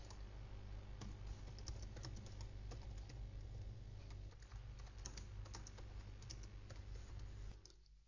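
Close, steady typing on a computer keyboard while writing code, a fast run of clicking keystrokes that stops near the end, with no talking.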